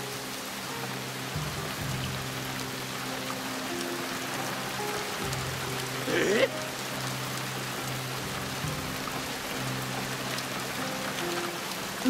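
Steady rain falls in Shadow Tactics: Blades of the Shogun, a constant hiss of drops on surfaces with faint low ambient tones beneath and a brief sharp sound near the middle.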